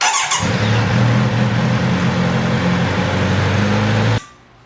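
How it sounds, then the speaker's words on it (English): A Kawasaki Z900RS motorcycle engine cranks and catches, then settles into a steady, loud idle rumble for a few seconds before cutting off abruptly. "I'm going to start the bike up for just a couple minutes"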